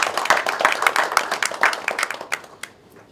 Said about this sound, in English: I would ask the councillors to give our education department a loud applause.